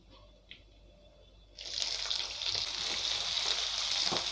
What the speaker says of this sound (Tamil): வெங்காயத்தை நல்லா ஃப்ரை பண்ணிக்கோங்க.